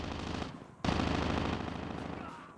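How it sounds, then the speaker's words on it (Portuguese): Gunfire rattles through a video game in rapid automatic bursts, loud and continuous, breaking off briefly before a second sustained volley resumes. "O barulho do tiro tá vindo por aqui, ó."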